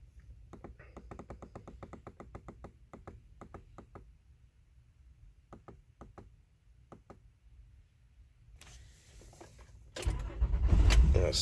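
A 2013 Honda Odyssey with a misfire and low compression being started: a run of faint ticks and clicks, then the starter cranks and the engine catches near the end into a loud, close, rough idle.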